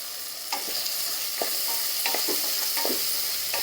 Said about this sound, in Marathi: आता टोमॅटो घेतला चिरून तो टाकते तीन सुक्या लाल मिरच्या टाकते